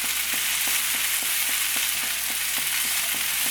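Potato and ladies' finger (okra) being stir-fried in a pan, a loud, constant hiss of frying with a regular, evenly spaced tapping of a spoon turning the vegetables, and no voices.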